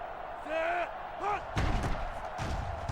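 Punt being kicked in the NCAA Football 06 video game on PS2: a sharp thump followed by a second impact, heard under a game commentator's voice and stadium crowd noise.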